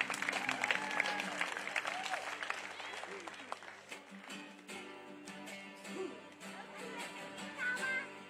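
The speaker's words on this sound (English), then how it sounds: "can you please give us a warm welcome, warm round of applause" Audience applause fills a kapa haka celebration at Rātana honouring Tahupōtiki in 2022: dense, steady clapping from a large crowd that fades slightly midway, with faint vocal tones riding above it.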